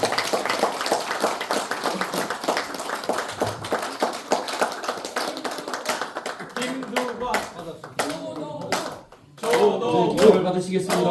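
A crowd claps through a flag-handover ceremony at a regional political rally in Cheongju, Korea, with loud, continuous, close applause and a speaking voice over it.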